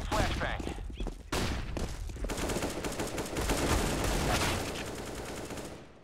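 Sustained automatic rifle fire rattles through a CS:GO ranked match, dense and fairly loud with a brief gap near the start, as players chat over it.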